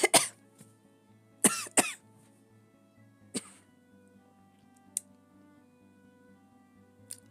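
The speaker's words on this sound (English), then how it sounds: "I breathed wrong, and therefore I needed to cough." Several sharp coughs burst out in a quick pair near the start, then a lone cough and a couple of smaller throat noises follow over a quiet indoor background with a low steady hum.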